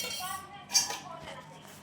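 A large spoon clinks once against dishes in a home kitchen while dal baati is served, a single bright metallic chink amid low household noise and a voice nearby.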